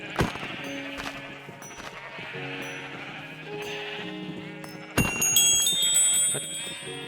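Sheep bleat in Minecraft, several wavering cries layered over one another with a sharper, louder burst near the end, close and with no talk.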